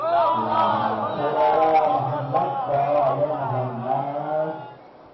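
A crowd at a Muslim poetry gathering in Muzaffarpur, Bihar chants slogans in unison, loud rhythmic group shouting repeated in waves before trailing off.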